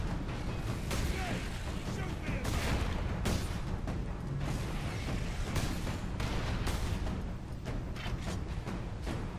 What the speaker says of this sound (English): Have to fire one bolt at a time to kill these rocket launchers